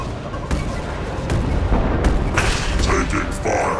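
Gunfire and booming blasts rattle through a firefight in the video game Mass Effect 2. Loud, dense shots and rumbling impacts pile up steadily for a few seconds.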